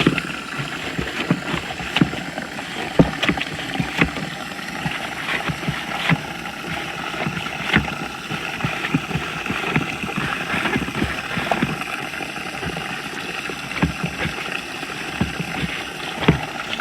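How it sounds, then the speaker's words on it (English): Hand pump being worked to flush a pond filter, giving continuous gurgling, rushing water with irregular knocks and splashes, close and steady throughout, with no speech. "Keep pumping, give these a few pumps."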